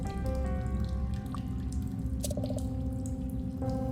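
Dripping water echoes in darkness within the Goosebumps: The Game video game, a few clear drops and a short trickle over a droning, humming ambience with no voices.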